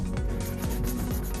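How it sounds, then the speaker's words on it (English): A dry acrylic nail being tapped, giving a hard, hollow knocking like a hard-boiled egg shell. Several light taps sound close up over a steady rubbing texture, with no talk. "So when the nail sounds like this, it means it's ready to file."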